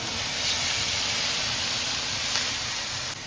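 Ground garlic and onion sizzle in a hot pan with a loud, continuous hiss that holds steady throughout, close up and with no talking.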